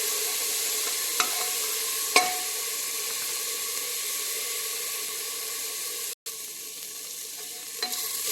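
Ginger garlic paste sautes in a pan for vegetable biryani, giving a continuous close hiss and sizzle with a couple of light utensil taps and a brief dropout.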